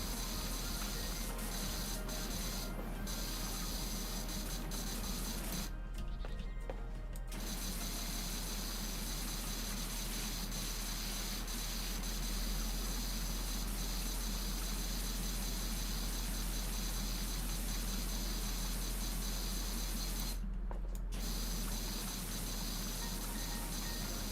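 Steady, loud pressure-washer spray from a turbo nozzle blasting grime in the cleaning game PowerWash Simulator, a continuous hissing roar lasting throughout with two brief breaks where the stream cuts off.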